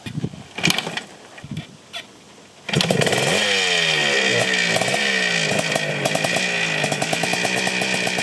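A few faint knocks and rustles, then a Yamaha 465 two-stroke motorcycle engine bursts to life close by and revs loudly in a raspy, buzzing drone.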